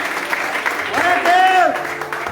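A church congregation applauding during a sermon, a steady wash of clapping with a voice speaking over it and rising in the middle.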